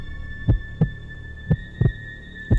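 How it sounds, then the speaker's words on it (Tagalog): Heartbeat sound effect with deep, thudding low beats, some doubled, repeating at a steady moderate pace over a constant faint hum; no voices. "dinig na dinig nila ang tibok ng puso nila sa sobrang kaba"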